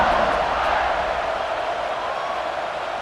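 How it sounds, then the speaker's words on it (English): A stadium crowd buzzes in EA Sports College Football 26, a dense, steady wash of distant cheering and murmur that holds evenly, with no distinct voices standing out. "this crowd is buzzing after that last score"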